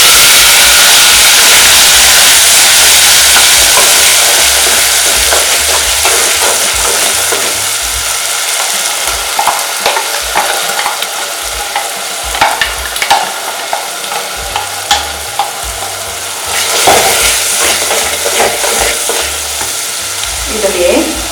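Curry leaves sizzle hard in hot oil for a Hyderabadi chicken gravy, a loud, steady frying hiss. Stirring scrapes and clatters come in from the midpoint as the masala goes into the pan.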